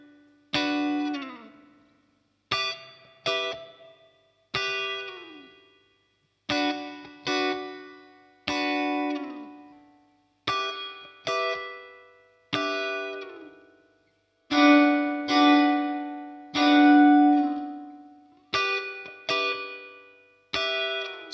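PSP PianoVerb reverb plugin transposed up an octave on a piano or keyboard part, giving a bright shimmering tail to a run of separate struck chords and notes with a steady rhythm, two held notes swelling in the middle, and no voices.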